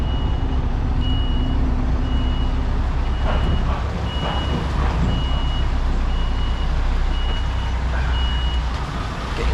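Steady reversing beeps from a delivery truck backing into a tight bay between two trucks repeat at an even pace over a loud, constant diesel engine rumble and low traffic noise.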